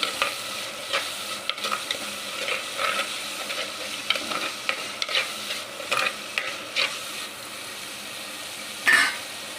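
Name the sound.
stirring tomato and green chillies into frying prawn curry base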